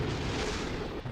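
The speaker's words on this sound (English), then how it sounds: "Oh, we exploded." Rocket blowing up in the video game Kerbal Space Program after its heat shield overheats: a dense, sustained roaring rumble of explosion noise filling the whole stretch, loud and steady with a slight dip near the end.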